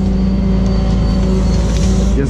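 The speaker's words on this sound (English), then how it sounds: "Now we're going to pull the truck underneath." A loud, close flatbed wrecker truck engine rumbles steadily with a deep idling drone throughout, slightly rising near the end, as the truck reverses under a vehicle.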